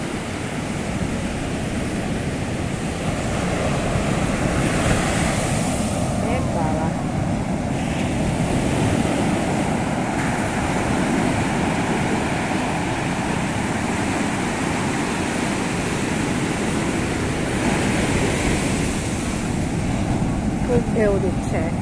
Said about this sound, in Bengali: সমুদ্র সাংঘাতিক ঢেউ দিচ্ছে